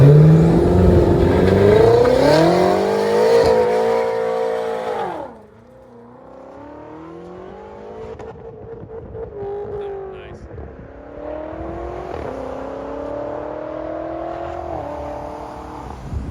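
Catless 570hp 2015 BMW X5 M with X-pipe, stock and Vibrant resonators and downpipe, revving hard: rising engine howl climbing to a peak, a sharp cut, then repeated lighter revs rising and falling, loud and close.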